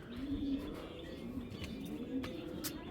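A male Rampuri pigeon coos in low soft repeated calls, close but fairly quiet, with faint background noise and no talk.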